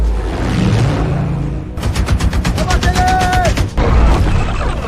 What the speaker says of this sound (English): Cannons and artillery fire